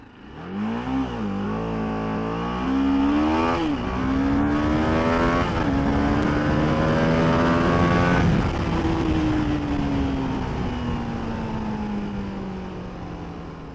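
A TVS Apache RR310, a 310cc single-cylinder motorcycle, makes a full-throttle 0 to 100 launch on a highway. The loud, close engine note climbs steadily, drops at several quick gear shifts, then keeps rising with no talk over it.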